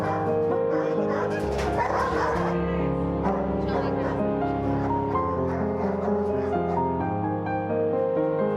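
Ivar, a guard dog trained to protect domestic violence survivors, gives repeated close, loud yips and bow-wow barks, alongside sustained music-like tonal sound throughout.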